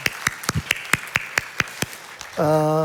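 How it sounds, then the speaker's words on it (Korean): Church congregation clapping in greeting, about a dozen sharp, evenly spaced claps that sound sparse and close, followed by a sustained musical tone that enters near the end. "박수로 서로 인사를 나누도록 하겠습니다"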